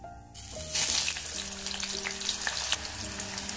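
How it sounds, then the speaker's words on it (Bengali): Cut potatoes drop into hot oil already crackling with five-spice and cumin tempering, a loud burst of sizzling that settles into a steady, close frying hiss with light stirring. "ফোড়নটা গরম হয়ে গেছে, এরপর আমি এর মধ্যে কেটে রাখা আলুগুলো দিয়ে দেব।"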